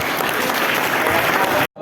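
Loud, dense audience applause at an Islamic Ramadan gathering, steady and sustained before stopping abruptly near the end.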